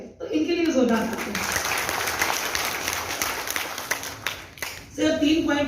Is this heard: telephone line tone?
no